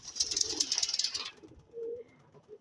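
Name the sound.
pigeons cooing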